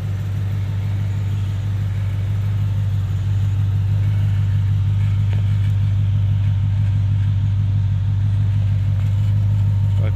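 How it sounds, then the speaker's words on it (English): A 2008 Ford Falcon XR8 FG with a manual gearbox idles steadily just after start-up, its low engine rumble continuous and even throughout, close by with no other sounds. "I've just shifted the car, started it up, and we'll walk around this side."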